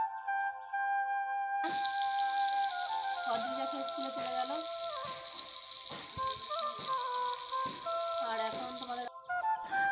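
Slices of brinjal frying in a pan in a home kitchen produce a steady bright sizzle starting a couple of seconds in, with melodic tones playing over it.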